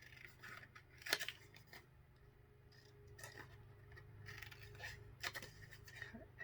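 Scissors snip through red paper in quiet, intermittent cuts, close by and faint, with small crisp clicks scattered over a low background hum.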